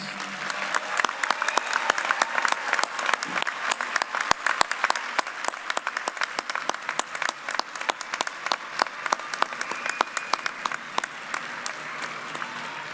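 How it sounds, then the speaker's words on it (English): Sustained applause for graduates at a university commencement ceremony, a dense, steady patter of many hands clapping that carries on evenly for over twelve seconds, with no speech over it. "How about another round of applause for our graduates?"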